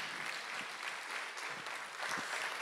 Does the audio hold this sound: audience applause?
yes